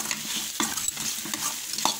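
Amla (gooseberry) pickle mixture stirred in a pan, with a few soft scraping strokes and a faint sizzle running steadily underneath, close and fairly quiet.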